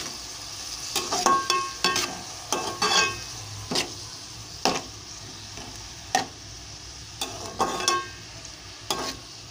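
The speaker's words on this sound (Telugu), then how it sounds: "రొయ్యలు వేస్తున్నానండి. రొయ్యలు వేసాను. ఇవి కూడా కొంచెం ఫ్రై చేసుకోవాలి" Prawns fry and sizzle in a hot pan for a prawn curry, with a steady hiss broken by repeated clacks and scrapes of a stirring spoon, close and fairly loud, no voices.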